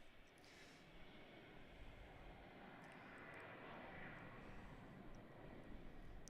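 An airliner takes off at Adelaide Airport, its jet engines a distant, broad rumbling roar that builds slowly and holds steady, faint and alone without voices.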